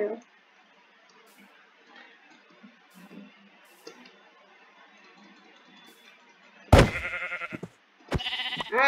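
Sheep bleating in the Minecraft video game, a couple of loud, sharp bleats arriving in the last seconds after a long stretch of quiet clicks and faint game noise.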